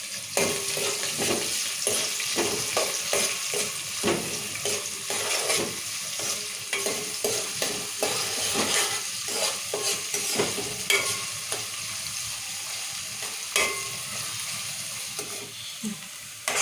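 Green chillies and onions sizzling and frying in oil in a pan while being stirred, a steady crackling hiss broken by repeated scraping strokes of the spoon, close and continuous with no talk.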